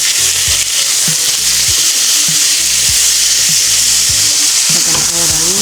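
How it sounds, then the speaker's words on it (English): Pork chops sizzle and crackle loudly in a frying pan up close, a continuous dense fry broken by a few scraping stirs and clinks of a utensil. "This is frying nicely."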